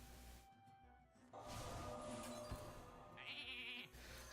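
A Polymorph spell in Hearthstone turns a card into a sheep, giving a short, quiet, wavering bleat alongside faint game effects and a hiss.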